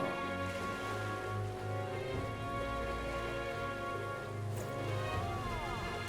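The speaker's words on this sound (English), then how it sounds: "Rain." Steady rain falls in the video game Metaphor ReFantazio, a constant soft patter layered with a droning tonal music bed, moderately loud throughout.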